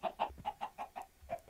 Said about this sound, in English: All my chickens are going crazy because I'm walking by with seeds.